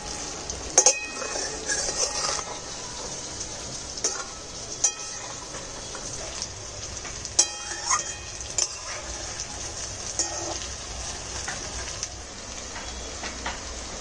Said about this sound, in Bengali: এটা একটু ধীরে ধীরে ভাজতে হয়, একটু ধীরে ধীরে ভাজলে পকোড়াটা খাস্তা হয়